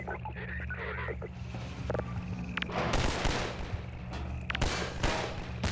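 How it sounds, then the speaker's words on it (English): A grenade explodes in the video game Half-Life 2, a loud broadband blast around the midpoint, then a second sharp burst near the end, over a steady low game hum. "I could actually use the grenade to kick him out of his area"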